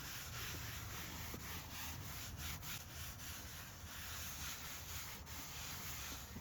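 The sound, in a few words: scrubbing dirt off muddy leather car seats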